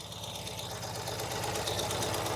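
A 2023 Ural Gear Up Sahara sidecar motorcycle idles nearby, its engine giving a steady, rapid mechanical chug with a faint rattly texture and a slight rise in tone partway through, with no talking.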